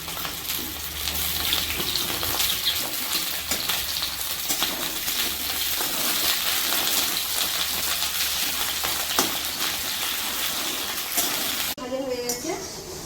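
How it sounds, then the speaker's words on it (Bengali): Long potato strips frying in hot oil in a home kitchen, a steady dense sizzle held throughout at close range, with faint background sounds near the end. "এই তেলটা গরম হয়ে গেছে প্রথমে আলুগুলোকে ভেজে নেব ভালো করে"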